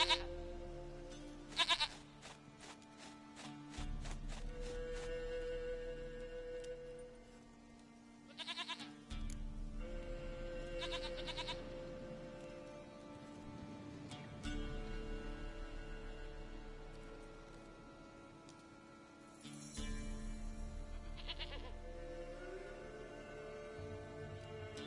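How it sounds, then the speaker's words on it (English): A goat bleats repeatedly in The Witcher 3 video game, played on PS5, with several wavering cries separated by pauses over steady game background sound, no speech. "Goat of mine, dearest, sweetest goat."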